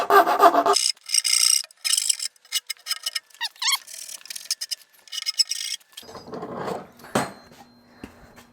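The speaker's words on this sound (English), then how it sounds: "And then I like these square chisels. I think they do pretty good with these corners." A square chisel pares into the corner of a wooden camper van wall panel, giving close, dry scraping and rasping strokes in short, irregular bursts separated by brief pauses.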